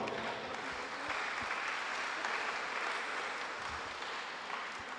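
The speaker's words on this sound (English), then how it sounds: "Give yourselves another applause." Audience applause at a youth forum in American Samoa, a steady crowd of many hands clapping together at moderate loudness for several seconds.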